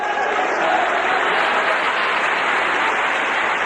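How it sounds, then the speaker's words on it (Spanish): A church congregation applauds at the end of a sermon, a continuous, even wash of many hands clapping, loud and steady throughout. "por eso le vamos a dar un aplauso final"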